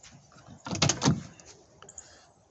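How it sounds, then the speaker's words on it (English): A Ford P6 LTD car door, on a barn-find classic, gives a short clunk and latch rattle as it is worked, a couple of quick close knocks followed by a faint click, with no talking. "Doors still work."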